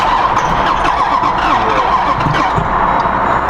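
A Jeep SRT Trackhawk with a blown engine that won't start, heard as a loud, continuous rough mechanical churning and rattling, close by and steady for the whole stretch, with no voices over it.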